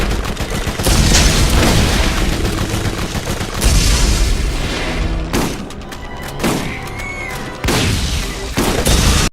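Gunfire against flying rakks in the video game Borderlands: loud bursts of rapid shots and heavy booms in clustered volleys, with short pauses between them.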